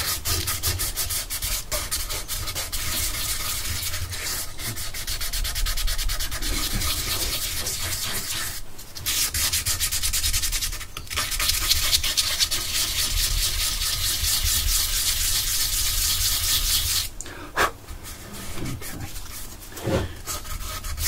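Fine sanding on a piece of wood, a continuous close rubbing hiss with brief pauses around the middle and near the end, loud and steady without speech.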